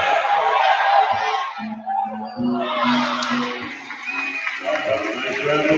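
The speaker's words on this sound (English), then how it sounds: "Nice round of applause for playing Bayport buzzer beater." Crowd applause and cheering in a college basketball arena between William & Mary and JMU, swelling and ebbing in waves with whoops, a shoe squeak and announcer-style voices mixed in.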